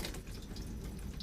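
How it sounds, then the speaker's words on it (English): Water rinsing a van toilet during a Finnish winter: a steady, close rush of running water with faint splashing, continuous and alone throughout. "Flush it. rinse it really good and then close the valve."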